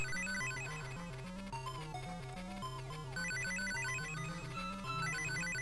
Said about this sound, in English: Oh, there goes the old phone.